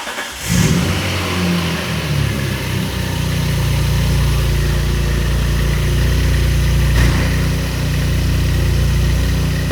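An Alfa Romeo 155 V6 engine idles up close with a steady, smooth low rumble. A brief rev comes at the start, and no voices are heard.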